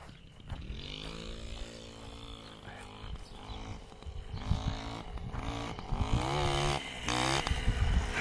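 A Vespino ALX moped engine runs close by with a buzzing two-stroke drone that rises and falls as it is revved, growing louder and rougher toward the end.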